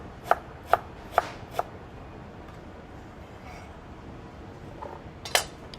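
Four crisp knife strikes on a cutting board as peeled fresh ginger is sliced into rounds, evenly spaced and close, then a pause and one more sharp cut with light kitchen clatter.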